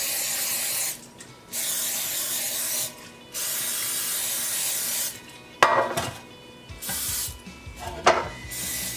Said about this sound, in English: And to my pan, I'm just going to be spraying with non-stick cooking spray.